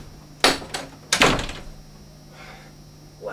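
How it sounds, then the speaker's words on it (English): A door shuts with two sharp, close knocks or thuds, then a quieter rattle as it settles. Light room noise and faint movement follow. "be sure to close the door"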